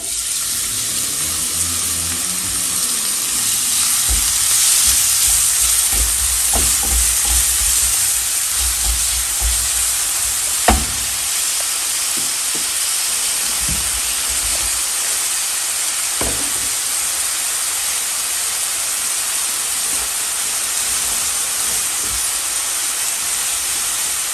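Chopped onion hitting well-heated oil in a frying pan gives a loud, continuous close-up sizzle and hiss that lasts throughout, with occasional clatters and scrapes of a utensil and no talking.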